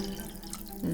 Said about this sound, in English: I'm going to add water almost to the top